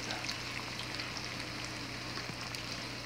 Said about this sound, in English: Can you hear him frying, sizzling, cooking?